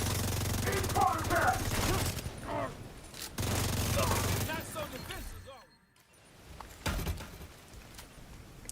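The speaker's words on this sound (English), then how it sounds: "we'll use our minigun as a specialization weapon" A minigun roars in the shooter game The Division 2, firing two long, dense, continuous bursts with a short pause between them, then falling quieter while a voice talks.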